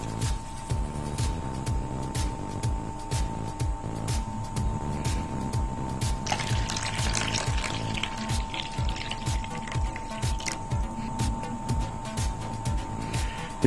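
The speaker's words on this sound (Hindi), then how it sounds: "इसमें लगभग आधा पानी डाल देंगे।" Water is poured into the bottom compartment of a kitchen sprouts maker, a steady trickling pour lasting several seconds with a brief louder splash midway.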